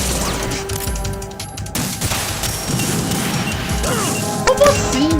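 Gunfire in Metal Gear Solid 2: Sons of Liberty, sharp shots and crashing impacts scattered over busy game noise, with someone talking over parts of it.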